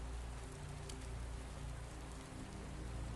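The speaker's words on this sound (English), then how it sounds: "The rain falls on the Myrtles Plantation tonight as it has for over 200 years" Rain falling on old cypress shingles at the Myrtles Plantation at night, a soft, dense, continuous patter with faint scattered drops, quiet and steady with no voices.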